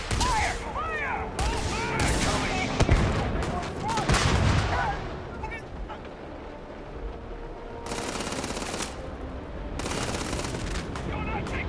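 Rapid gunfire in the Starfield game, bursts of automatic shots rattling through a loud firefight, with short breaks and a later renewed volley, with shouting voices over the fire.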